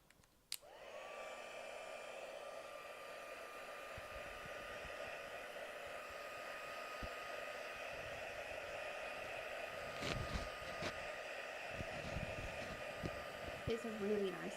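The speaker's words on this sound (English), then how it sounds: "we're just going to give it a quick blast so then it dries" A hair dryer runs continuously as it dries glitter glue on a craft piece, a steady close whooshing blow with a few faint clicks and rustles near the end.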